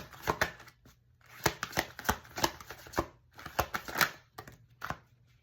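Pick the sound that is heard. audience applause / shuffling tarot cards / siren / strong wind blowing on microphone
shuffling tarot cards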